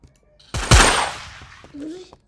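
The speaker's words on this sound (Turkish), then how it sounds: "Sıkıyorum ama vuramadım." A gunshot burst in a Roblox assassins-versus-sheriffs duel game cracks loudly and decays over about a second, then a short voice sound follows.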